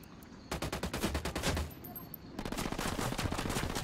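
Gunfire in the video game Ghost Recon Wildlands: rapid automatic bursts in quick rhythmic volleys, loud and close, with a brief pause before another sustained burst.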